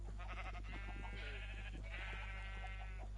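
Sheep on a rainbow sheep farm in Minecraft bleat repeatedly, several overlapping wavering cries close by over a steady low hum, with no talk.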